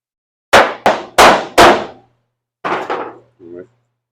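Metal hammer blows on a car body panel during a Chevy-Mopar Daytona-style build: four sharp, loud clanging strikes in quick succession, a pause, then a couple of softer knocks and a brief ringing tap, close by.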